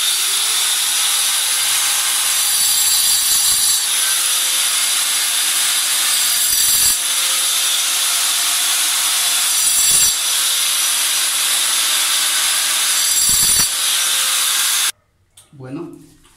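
A tool grinds and scrapes continuously against ceramic floor tile to rough up the glazed surface before drilling, loud and steady with a few brief pauses, then cutting off near the end.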